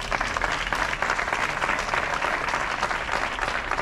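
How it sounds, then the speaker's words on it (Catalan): A crowd at a hand-pelota fronton exhibition in El Puig, Valencia, claps loudly and steadily throughout, a dense wash of applause with no pauses. "Un aplaudiment."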